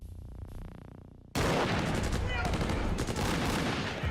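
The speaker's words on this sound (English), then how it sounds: "It's gonna be a whole shootout." Heavy gunfire in a tense TV shootout, loud dense bursts of shots erupting suddenly after a quieter stretch and rattling on continuously to the end.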